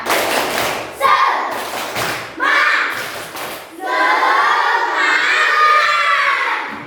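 A classroom of pupils claps out a rhythmic spirit clap in short, loud bursts separated by brief gaps, with the group's voices mixed into the beat.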